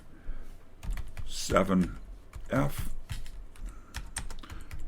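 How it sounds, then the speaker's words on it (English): Quick, irregular clicks of typing on a computer keyboard at a workbench while testing RAM cards for an Altair 8800, close and fairly clear, with a short spoken remark near the start. "I can't type here."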